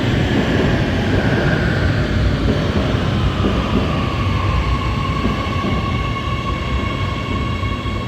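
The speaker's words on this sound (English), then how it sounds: "Trains." A metro train rolls past in Oslo, a loud continuous roar of wheels and motors with a faint whining tone drifting downward, steady and close throughout.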